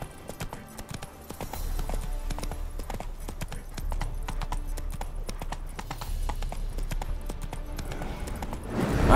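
Hooves of Roach, the horse in The Witcher 3 video game, clip-clopping in a steady, rapid rhythm over a low ambient drone, continuous and close, with a louder swell at the very end.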